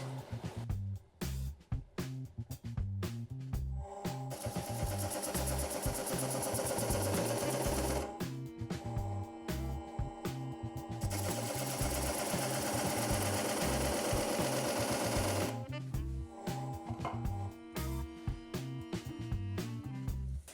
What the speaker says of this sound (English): just a couple of decorative rings with Cindy Drozda's Vortex tool